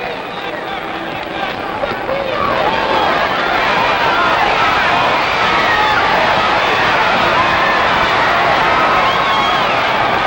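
A dense, roaring crowd at the Sonny Liston vs Bert Whitehurst boxing fight cheers steadily and loudly throughout, a thick wash of voices with some speech mixed in.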